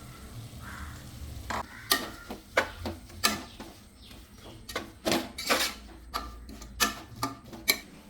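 Ginger and garlic frying in a pan while beef and tapioca are cooked: a soft, steady sizzle with sharp irregular stirring clicks and taps scattered throughout, fairly close, with no talking.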